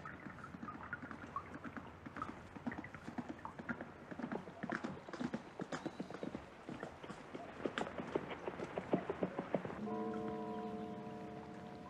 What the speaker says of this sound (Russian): Красивый очень звук лошади, который приезжает мимо.